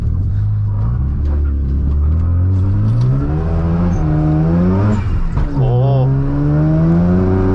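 Car accelerating hard out of a car wash with its wheels losing traction, engine revving up and down in repeated rising sweeps, loud and close, with a brief exclamation from the driver.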